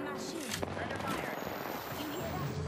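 Rapid gunfire rattles in the video game Apex Legends as a dense, fairly quiet barrage that runs throughout the short stretch, with a voice partly over it.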